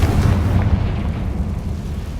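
A Confringo explosive spell blast in the Hogwarts Legacy video game, a loud booming burst that rumbles at the start and then slowly fades over about two seconds.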